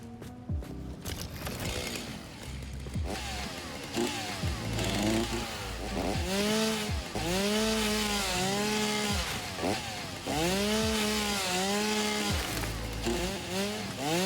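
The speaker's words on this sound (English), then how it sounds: "Can I chainsaw this?" A chainsaw cutting through wood in the factory-building game Satisfactory, the engine revving up and down in repeated surges as it bites, loud and continuous without talk.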